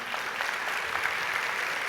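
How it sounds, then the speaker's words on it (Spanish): A church congregation claps steadily and loudly throughout, a dense continuous wash of applause with no break. "Denle un fuerte aplauso al Señor"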